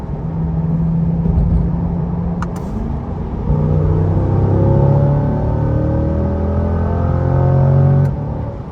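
A Chevrolet Corvette C8 pulls away hard from takeoff, its engine note climbing loud and close from inside, then downshifting with rising revs over a steady rumble.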